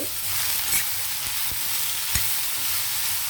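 Bottle gourd pieces with turmeric and salt cook in a pan for a fry, giving a steady, close sizzle with a few soft stirring knocks and no talk.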